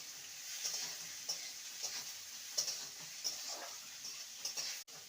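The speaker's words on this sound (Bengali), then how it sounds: "এবার কোচানো পেঁয়াজগুলো দিয়ে দেবো। এখানে 4টে বড় সাইজের পেঁয়াজটাকে হালকা ভাজবো।" Four large sliced onions fry lightly in oil with a quiet, steady sizzle, while repeated soft scrapes of stirring tick along at a fairly regular pace and a sharp click sounds near the end.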